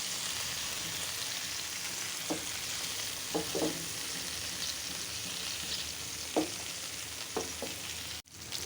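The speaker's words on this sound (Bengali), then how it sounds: "মাছগুলি ভাজা হয়ে গেছে" Pieces of rohu fish frying in hot oil in a pan: a continuous even hiss and crackle with a few sharp pops and clicks, steady throughout, with no voices.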